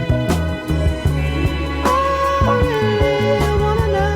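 A soul song plays as a recording, with a thumping bass line, steady drums and a melodic line rising above, full and continuous.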